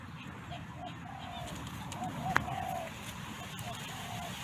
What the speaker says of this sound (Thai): นกป่ามาแล้วครับ ฟังเสียงครับพี่น้อง